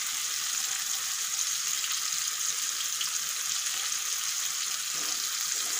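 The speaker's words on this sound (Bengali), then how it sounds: "এগুলো একটু ভালো করে ভেজে নেব" Mixed masala and sambar masala fry with tomatoes in a pan, giving a steady, bright sizzling hiss. It holds constant and fairly loud throughout, with no talk.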